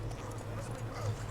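Clip-clop of a horse's hooves in The Witcher 3: Wild Hunt, an even hoofbeat patter blended into a busy background of game ambience, steady throughout.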